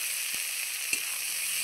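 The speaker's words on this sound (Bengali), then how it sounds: "তারপর দিয়ে দিল ভিজিয়ে রেখে দেওয়া চিংড়ি মাছ।" Soaked shrimp hit a frying pan with grated onion and garlic, giving a brief, even sizzling hiss with a couple of soft pops.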